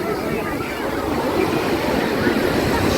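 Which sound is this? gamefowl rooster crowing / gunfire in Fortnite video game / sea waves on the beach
sea waves on the beach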